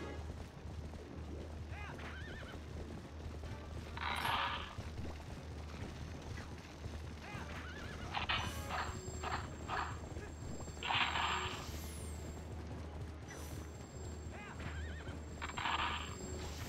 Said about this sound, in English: fan of the horseback riding in all the Zelda games, Kenny.